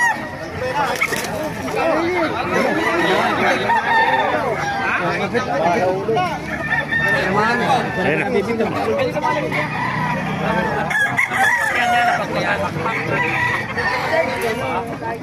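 White Kelso gamefowl roosters crowing repeatedly close by, with clucking fowl and a busy yard around them while people talk over the birds throughout.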